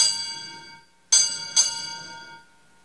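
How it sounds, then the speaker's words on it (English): A ship's bell struck for four bells at a Navy Sailor of the Year ceremony rings out with a fading tone, then two sharp strikes in quick succession, each leaving a long bright ringing decay in a quiet hall. "Bosun, strike four bells."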